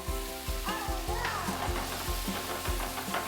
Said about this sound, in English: Now let's brown them into frying pan with the sauce.